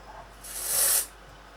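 A single short burst of makeup setting spray hisses close by for about half a second, then stops.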